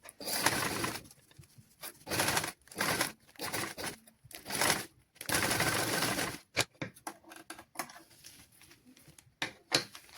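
A sewing machine runs in bursts, stitching around a seam on children's clothing, its rapid needle clatter starting and stopping in short and longer runs, close and fairly loud, with no talking.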